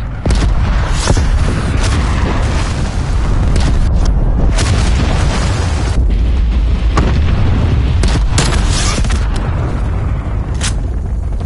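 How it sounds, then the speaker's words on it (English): A cruise missile strike in a Call of Duty match on the Nuketown map sets off a loud, dense barrage of booming explosions, with repeated heavy blasts and sharp bursts packed close together throughout. "Cruise missile inbound"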